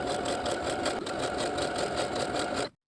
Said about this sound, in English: Now using a twin needle, a cover stitch machine, or your regular machine and a stretch stitch, sew close to the raw edge all the way around.